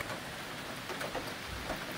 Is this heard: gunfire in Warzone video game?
no